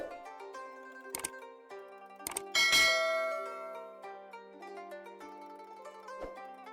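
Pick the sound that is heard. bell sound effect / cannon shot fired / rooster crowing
bell sound effect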